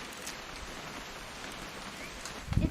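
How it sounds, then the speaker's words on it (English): Rain in the video game What Remains of Edith Finch, a soft, even hiss of falling rain with scattered drops, faint and continuous, with a brief low thump near the end. "It's gonna rain the whole weekend, isn't it?"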